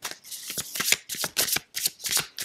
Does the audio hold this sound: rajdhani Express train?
no